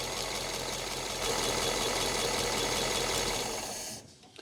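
A 1939 Ford truck's engine runs steadily with a busy mechanical clatter, swelling slightly as it is revved with a little hesitation, then cutting out near the end; close and loud, no talk.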